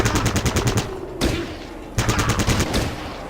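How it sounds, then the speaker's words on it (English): Rapid bursts of gunfire in the video game Fallout Tactics, loud rattling volleys broken by short gaps, with three separate bursts in quick succession. "you guys, get in here and shoot him."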